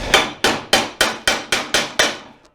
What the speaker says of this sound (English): hammer it down a little bit